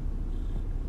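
A Maine Coon kitten purrs in a low, continuous rumble, close and steady for about a second, with no talking.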